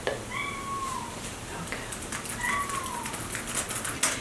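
A cat meows twice, a drawn-out call early on and another about two seconds later, heard indoors with faint background noise.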